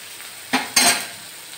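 Onions frying and being stirred in a wok of oil left over from frying a kilo of fish: a steady background sizzle broken by two short, loud scraping stirs a moment apart.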